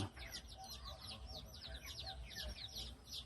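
Laying hens cluck quietly in a rural backyard coop, a soft, continuous chorus of overlapping clucks and murmurs heard from nearby.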